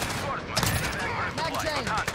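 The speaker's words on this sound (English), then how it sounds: "Taking fire up here." Rapid gunfire from an AK-47 in the video game Call of Duty Modern Warfare: dense, loud bursts of shots and blasts that fill the whole stretch, with a busy game soundscape behind them.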